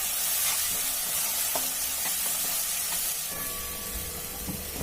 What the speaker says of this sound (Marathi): आणि परतून घ्यायचंय, लगेचच परतायचं आहे, नाहीतर तिखट करपू शकतं।